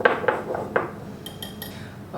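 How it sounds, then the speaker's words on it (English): A whisk stirs kosher salt, cinnamon and baking soda into flour in a bowl, making a few light, close clinks and taps in a quick, uneven rhythm. "Whisk those together."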